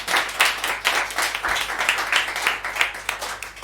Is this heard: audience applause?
yes